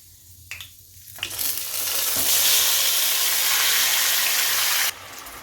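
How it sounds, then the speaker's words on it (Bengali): Marinated chicken hitting hot oil in a pan, a sudden loud sizzle that swells and holds steady for several seconds before dropping back, with a few stirring taps. "এবার আমি ম্যারিনেট করা চিকেনটা দিয়ে দিলাম"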